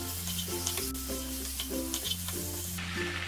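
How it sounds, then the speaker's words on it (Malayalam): Fried chicken tossed into a ketchup-based chilli sauce in a pan gives a steady sizzle with soft stirring scrapes, running continuously over a faint background tone. "ഇനി ഇതിലേക്ക് നമുക്ക് ഈ ഫ്രൈ ചെയ്ത് വെച്ചിരിക്കുന്ന ചിക്കൻ ഇട്ടിട്ട് ഇളക്കി കൊടുക്കാം."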